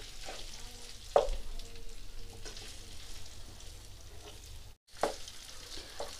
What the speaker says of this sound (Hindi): तो इसे इस तरह से हमें फ्राई करना है थोड़ी देर